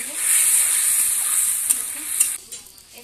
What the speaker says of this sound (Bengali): সেদ্ধ হওয়ার জন্য জলটা দিয়ে একটু নাড়িয়ে দেবো।